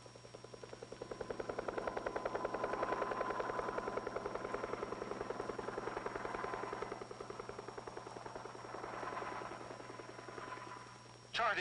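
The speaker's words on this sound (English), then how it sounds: "After the explosion, Air Force helicopters survey and monitor the acres of blast area with" Air Force helicopters fly over the blast area after an atomic test in Nevada, their rotors thudding in a fast steady beat with a distant droning quality that swells and fades slightly.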